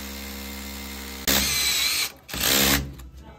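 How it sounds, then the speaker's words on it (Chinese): A power drill bores a 10 mm hole in a wall while a wall-hung toilet is installed: a steady whine ends with a sudden harsh grinding burst, a short pause, then a second grinding burst before stopping. "所以我们直接打10毫米的孔。"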